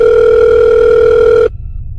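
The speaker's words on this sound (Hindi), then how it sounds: "थोड़ी देर बाद समारा का फोन बजा।" A phone rings in a Hindi-Urdu horror audio story, a loud steady electronic tone held for about a second and a half before cutting off abruptly into quiet.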